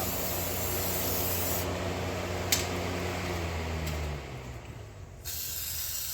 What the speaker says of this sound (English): I'm going to spray it all down.